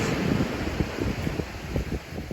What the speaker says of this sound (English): Yeah, this has the waves going in.